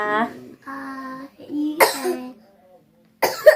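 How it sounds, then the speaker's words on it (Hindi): A few harsh coughs break out between short, voiced vocal sounds, close and fairly loud. "खांसी हो रही?"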